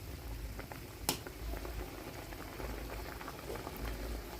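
Potato curry bubbles steadily in a pot at a rolling boil, a close, continuous soft gurgle with one brief sharp click partway through; no one speaks.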